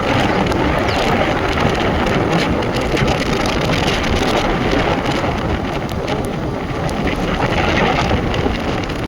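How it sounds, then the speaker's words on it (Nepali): Steady, heavy rain pours down outdoors near a river in Nepal, forming a dense, even hiss with no pauses. "गाइस फाइनली यस्तै पानी आइसकेछ"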